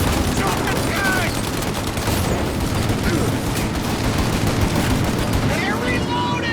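A loud, relentless shootout in the video game Mafia Definitive Edition, with rapid overlapping gunshots and bursts of automatic fire blending into one continuous barrage, and voices faintly underneath.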